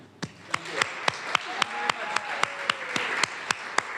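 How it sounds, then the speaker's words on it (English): An audience applauds at an Irish Studies reading, a light crowd clapping with sharp individual claps standing out at a steady pace, soft and somewhat distant, with no talk over it. "Could we give a very big, after I say their names, a very big, warm applause for Deb Shebish, John Andrew Bellinar, and J"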